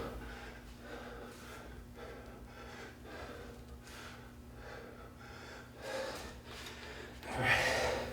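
Heavy breathing during a dumbbell workout comes as repeated forceful exhales and gasps in a steady rhythm, close and fairly quiet, with a sharper breath near the end.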